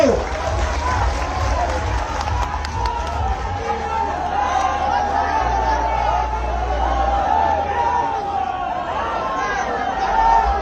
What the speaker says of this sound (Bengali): সবাই একবার জোরে করতালি দিয়ে সম্বর্ধনা জানাবো।